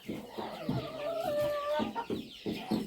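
Farmyard rooster clucking in short repeated bursts at close range, with a steady hum of other poultry behind it.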